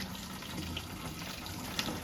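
Evian mineral water poured in a steady gush from a large 25-litre supply into a vessel, a continuous splashing liquid flow with no talk.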